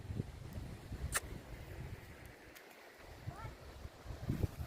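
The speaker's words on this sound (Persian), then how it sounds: "دریا رو ببینید، صدای دریای چقدر زیبا." The sea at a seaside spot, heard as a low, rushing wash of water mixed with buffeting wind on the microphone, fairly faint and continuous, with a few soft knocks.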